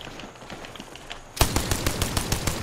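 Rapid automatic gunfire in a video game arena match, starting abruptly after a quieter stretch and continuing as loud, evenly spaced bursts.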